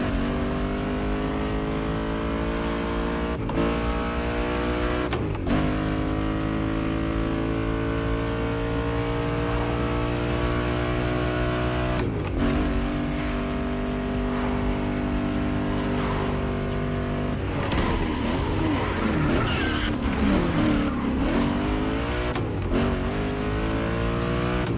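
A BMW drives in the racing game The Crew Motorfest in Hawaii, its engine droning steadily with rising and falling revs and gear shifts, loud and close throughout, with brief tire squeal near the end.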